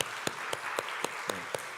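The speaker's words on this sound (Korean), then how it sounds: "우리 박수로 한번 환영하도록 하겠습니다" A church congregation at a Sunday service claps to welcome a newcomer: six sharp, evenly spaced claps ring out over a low room murmur.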